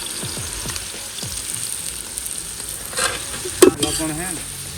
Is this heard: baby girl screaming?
no